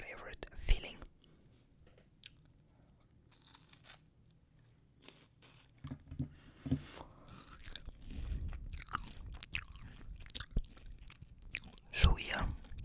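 Crunchy wafer candy with a minty Patkis-flavored filling being chewed close to the mic, with crisp irregular bites and crunches interspersed with soft whispering.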